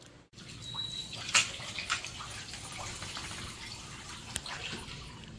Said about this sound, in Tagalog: May naliligo.